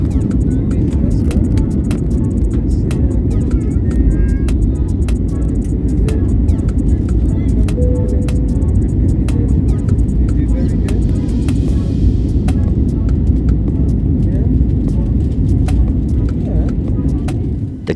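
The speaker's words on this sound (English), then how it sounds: "And we have liftoff." A Wizz Air airliner taking off gives a loud, constant engine roar and cabin rumble heard from inside, steady for the whole stretch, with a faint voice briefly under it.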